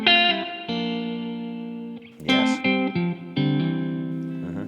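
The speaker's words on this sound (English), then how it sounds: "Nice single coil, shimmery, chimey tone that we're all very familiar with." Clean single-coil electric guitar tone with a shimmery, chimey character. Strummed chords ring loud and sustained, with a short pause and a quick flurry of notes before the chords ring out again, with no talking.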